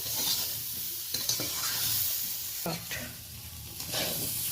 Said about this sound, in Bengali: বেশ হালকাভাবে দু তিনবার আমি নাড়াচাড়া করে নিলাম